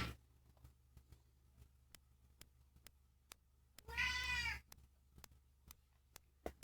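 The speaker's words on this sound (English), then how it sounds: "Why do you need to meow at me all the time" A single clear digital meow comes from the little character in the Commodore 64 game Little Computer People, set against quiet, evenly spaced soft clicks.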